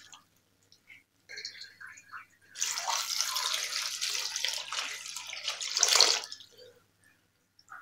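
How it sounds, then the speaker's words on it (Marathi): Water is poured from a tap or vessel onto fresh fenugreek leaves in a kitchen: a few soft drips, then a steady splashing pour lasting several seconds that swells near the end before it trickles off. No one speaks. "आधी पाणी घालायचं आहे।"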